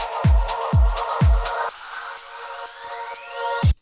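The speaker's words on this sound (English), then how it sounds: "You can hear the vocal riser." A vocal riser sweeps upward near the end of a dance-track intro, rising steadily in pitch after the pounding kicks drop away, then a final kick hits just before the break.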